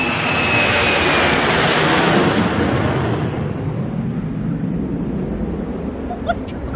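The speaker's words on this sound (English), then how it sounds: "F-35. F-35! That was awesome." F-35 fighter jet passing overhead, a loud broad roar that swells and then slowly fades as it pulls away, heard from outdoors.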